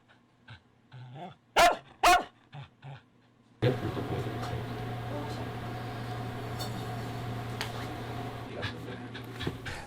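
A dog barks twice in quick, loud succession amid a few softer yips and noises, then a steady low background hum with faint panting fills the rest.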